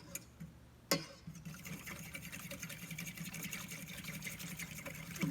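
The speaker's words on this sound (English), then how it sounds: "Now I'm gonna whisk it up" Milk is whisked into a sauce for scalloped gouda sweet potatoes. After a sharp knock, a steady, rapid rhythmic clicking of the whisk against the pot continues close by, with no talking.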